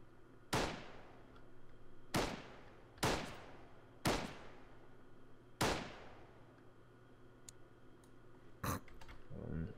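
An M4 rifle in the Arma 3 video game fires single sharp shots, five spaced roughly a second and a half apart, then a faint click and one more shot, crisp and fairly close over a quiet background hum.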